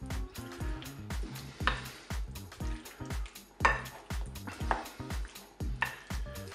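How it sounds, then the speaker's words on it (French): Salad being stirred with a yogurt-mustard sauce in a bowl, a run of repeated clattering scrapes and taps from a utensil against the dish, close and moderately loud, with no talking. "Et je mélange."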